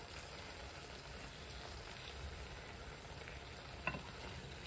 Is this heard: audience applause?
no